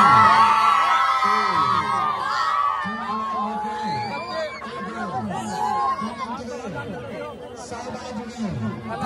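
Dense crowd chatter at a village Salhesh puja fair, many voices talking, shouting and whooping at once, loud and close, with individual voices rising above the general hubbub.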